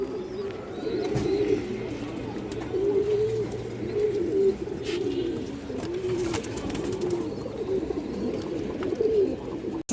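Pigeons, including khaki birds, coo continuously in a loft, several soft rolling calls overlapping at close range with occasional clatter and knocks.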